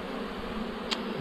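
Bees swarming around an opened hive packed with honey outdoors, a steady close buzzing drone filling the whole moment with one brief sharper rise near the end.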